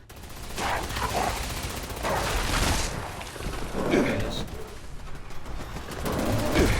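Weapon fire against a Yao guai in Fallout 76: several bursts of shots and booms at irregular intervals, fairly loud, mixed with creature noises and game sounds.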